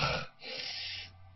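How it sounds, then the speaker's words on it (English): Heavy, labored breathing of a marathon runner up close: a rough gasping breath followed by a long, rasping exhale, like someone winded from running. "You can hear the runners, labored breathing."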